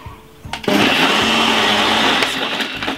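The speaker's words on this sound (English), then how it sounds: "And blend this in roughly about 3 to 4 seconds" A blender roars at full speed blending a smoothie for a couple of seconds, a loud steady whirring grind that starts abruptly and tapers slightly at the end.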